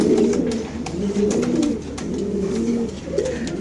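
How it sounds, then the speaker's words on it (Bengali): Racing pigeons coo steadily in a loft, several birds overlapping in low, rolling throaty calls that run through the whole stretch at close range with no talk. "ওভারলাইট কালারের সবজি নর কবুতর।"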